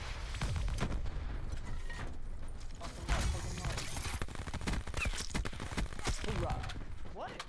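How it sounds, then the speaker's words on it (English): Heavy gunfire and explosions in the battle royale mode Blackout of Call of Duty, with a rocket launcher fired at a tank amid dense overlapping shots and blasts. "I'm gonna shoot the rocket launcher at the tank"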